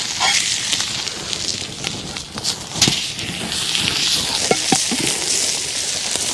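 Ribeye steak sizzles and crackles over an outdoor campfire on a dry winter night, a steady hiss with scattered pops and sharp snaps close by, no voices.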